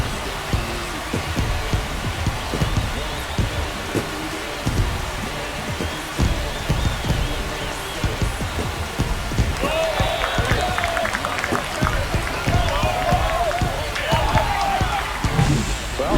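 A stadium crowd in MLB The Show 25 roars steadily after a home run in a Marlins at Nationals game, the dense noise swelling and brightening midway, with no voices heard over it.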